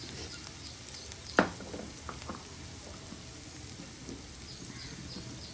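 Ground coriander and garam masala fry in a pan for tomato charu, a low steady sizzle close by, broken once by a single sharp clink of a stirring utensil against the pan.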